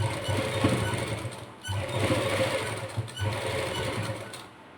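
A sewing machine stitches lace onto fabric in a close, rapid mechanical chatter, running in three bursts separated by brief pauses and stopping at the end.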